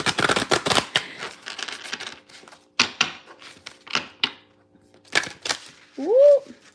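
A deck of cards being shuffled by hand gives several quick bursts of riffling clatter, loud and close, with short pauses between them and a brief vocal sound near the end.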